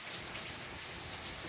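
Heavy rain falls steadily in Kissimmee, a dense, even hiss of drops on surfaces with no pauses or voices.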